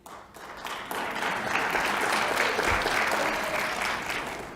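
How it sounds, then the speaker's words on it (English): Audience applause at a recovery court graduation ceremony, clapping that swells quickly after a brief quiet start and holds as a full, steady round from many people in the room. "And by round of applause, how many former graduates?"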